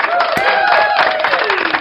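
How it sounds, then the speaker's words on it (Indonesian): Crowd at an outdoor Jakarta political rally for Jokowi, applauding in a dense burst of clapping, with voices shouting and cheering over it. "Tepuk tangan untuk Bapak Jokowi Widodo."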